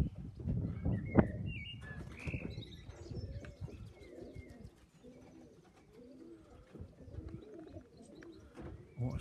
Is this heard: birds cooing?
yes